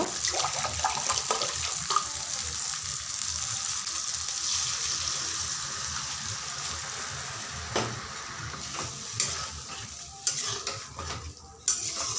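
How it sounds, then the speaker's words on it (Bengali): Water poured into a hot pan of egg curry after the masala has been sautéed, a steady, fairly close hiss and sputter of sizzling liquid lasting throughout, with a few sharper clicks near the end and no talking. "তো হয়ে গেছে কষানো, আমি এখন জল দিয়ে দিব।"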